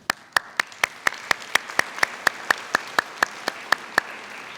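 At a school district convocation, crisp claps land one after another at an even, steady pace, each sharp and distinct against a quiet room rather than blending into a wash.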